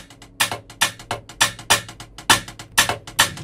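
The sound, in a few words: shaker run in a music beat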